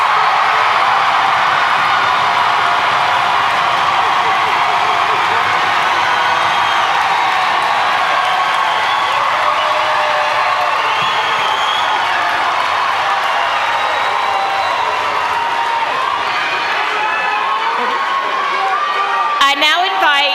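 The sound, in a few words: graduation audience applauding and cheering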